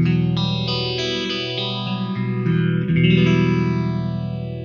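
Electric guitar sustaining rich chords through a phaser pedal run in front of the amp, its tone swooping in and out with slow sweeping notches, loud and continuous with a dense, effected texture throughout.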